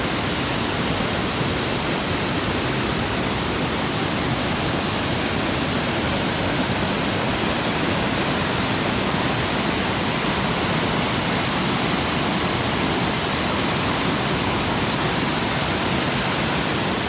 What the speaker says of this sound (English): This is Great Falls, the Great Falls section of the Potomac River.